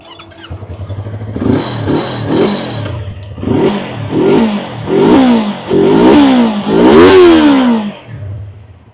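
A 2020 Yamaha R25 V2 sport motorcycle engine starts up close by, idles briefly, then revs sharply several times in loud repeated bursts before settling back to idle.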